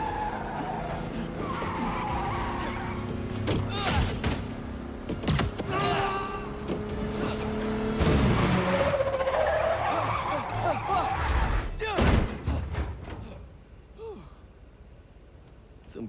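Car skidding and braking in the Marvel's Spider-Man 2 video game, with long tire screeches, thumps and revving engine noise running continuously through the stretch before easing off near the end.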